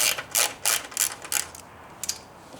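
A ratchet loosens a 10 mm bolt on an Alfa Romeo Stelvio QV, giving about six short, close bursts of rapid clicking in an uneven rhythm, with a quiet pause before the last one. No one speaks.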